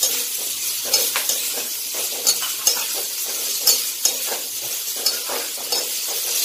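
Two large onions sauté in a pan with dal for mint chutney, a close sizzle punctuated by repeated scraping stirs and light clinks of a spoon against the pan.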